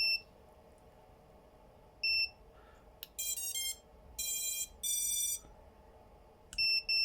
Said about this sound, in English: how to stop your buzzer from buzzing